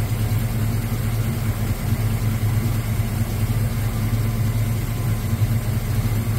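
A 1989 Chevy S10 Cameo engine idles steadily up close, with a smooth, even low rumble and faint valve ticking running unbroken and alone for the whole stretch.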